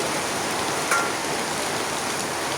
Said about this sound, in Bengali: অবশেষে বৃষ্টি কিন্তু চলেই আছে